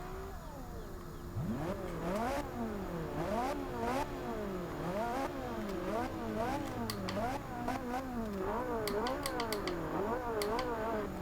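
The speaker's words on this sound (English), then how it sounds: "the exhaust on this car it's probably the best sounding feature on this car" A 2015 Ferrari 458 Speciale engine revs repeatedly in Forza Horizon 2, pitch sweeping up and down in quick cycles with crackling pops from the exhaust; it sounds synthetic.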